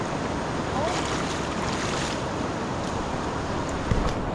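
Rushing floodwater coming down from the Sierra Madre mountains, a loud, steady broadband roar with wind buffeting the microphone and no talk over it.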